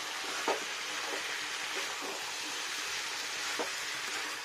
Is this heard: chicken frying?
yes